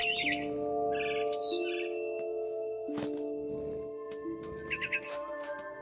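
Chirping of a mother bird in the video game What Remains of Edith Finch, several short bright tweets in bursts over soft sustained musical tones and a faint clink.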